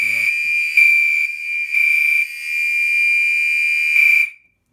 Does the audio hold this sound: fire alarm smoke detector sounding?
yes